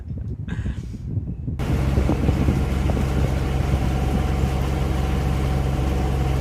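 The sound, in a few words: sailboat motoring out through Lake Worth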